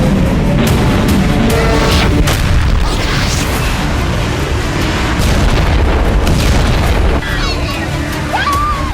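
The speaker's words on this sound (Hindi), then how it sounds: "इजराइल में हिजबुल्लाह ने इसी तरह रॉकेटों की बरसात की" Hezbollah rockets striking in Israel, heavy booming explosions rolling one after another amid loud chaotic noise, with voices speaking over the blasts.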